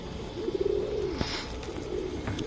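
A pigeon coos nearby in a soft, rolling call, followed by a second quieter coo, with faint rustling in the background.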